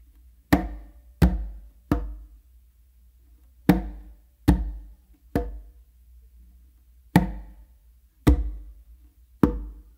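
A bass finger clave pattern sounds on a tumba and a conga, with hand strokes and slaps falling in groups of three and two. The hits are sharp and close, and nobody speaks.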